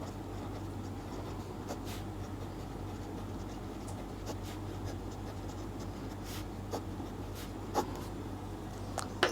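Pen strokes on paper while a binomial theorem expansion is worked out, faint scratchy writing sounds in short irregular bursts over a low steady background hum.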